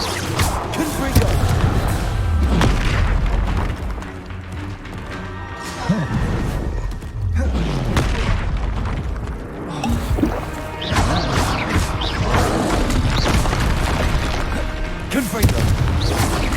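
Fiery Confringo spell blasts in the Hogwarts Legacy video game, loud booming crashes and dense rumbling impacts over a noisy battle with horse whinnies, continuing throughout.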